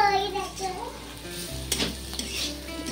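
Beetroot and carrot sizzle in a pan while a utensil stirs and scrapes, with faint background voices and a low hum.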